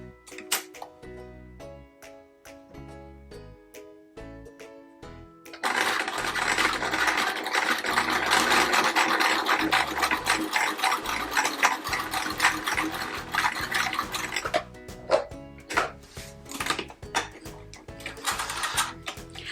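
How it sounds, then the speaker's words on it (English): A sewing machine stitching quilt fabric pieces of small yellow triangles and diamonds, first slow rhythmic ticking of the mechanism, then a steady close whirring run of stitching. "We're now going to sew the small yellow triangles in the center of the diamonds."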